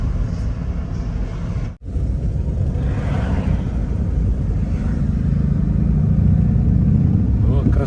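A Harley-Davidson motorcycle rides past on a road near Kobe and Osaka in Japan, its steady low engine rumble filling the clip after a brief dropout, swelling slightly as it goes by.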